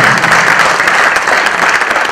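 Audience at a stage event bursts into steady, dense applause, many hands clapping together loudly and continuously throughout, with no voices standing out.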